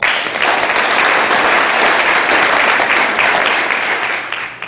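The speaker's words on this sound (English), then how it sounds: "a round of applause for the pledges that led us in the Pledge of Allegiance" Loud, dense applause from a 4-H fair audience, sustained clapping that holds steady and then starts to fade near the end.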